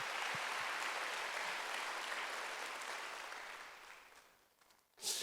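A church congregation applauds during a Wednesday worship service, a dense wash of clapping that slowly fades out, then ends with a brief burst of noise.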